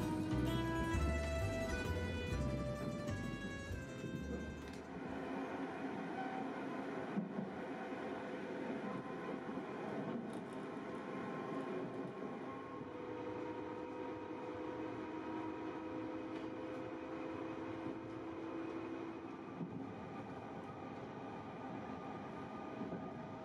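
Steady rumble and rolling noise inside the Arlecchino train travelling from Milan to Venice, heard continuously with no talk; a brief musical passage plays over it at the start before the ride noise carries on alone.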